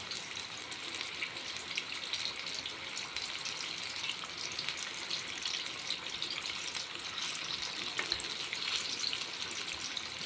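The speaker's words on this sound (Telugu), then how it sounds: "చికెన్ బాగా ఫ్రై అయిన తర్వాత గోల్డెన్ బ్రౌన్ కలర్ వచ్చేంత వరకు ఫ్రై చేసుకోండి" Chicken pieces deep-frying in hot oil until golden brown, KFC-style crispy fried chicken, giving a steady, dense crackling sizzle that stays even and close throughout with no voices.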